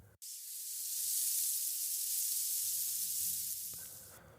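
A loud, steady sizzle like food frying in hot oil, starting abruptly and holding a broad hiss for about four seconds before fading, used as a sound effect in a sports podcast intro.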